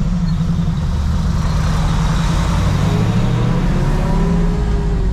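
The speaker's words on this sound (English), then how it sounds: "You guys can see the car starts off great." A 1969 Chevrolet Camaro engine runs loud and close with a steady, deep rumble that holds throughout, with no talking.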